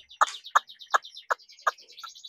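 Young Chinese hwamei songbird singing nearby in a cage, a quick series of about six sharp, bright repeated notes with thinner high chirps woven between them, clear against a quiet background.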